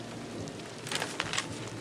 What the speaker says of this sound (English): I love the rain. The rain sounds so good.